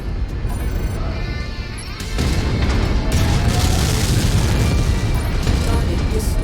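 A destroyed target exploding in MechWarrior 5: a loud burst of crashing boom kicks in after a quieter lead-in and rumbles on with crackling debris, while a voice speaks briefly.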